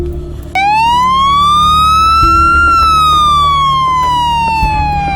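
An ambulance siren wails loud and close in a single long rising and falling sweep, with a steady vehicle rumble underneath.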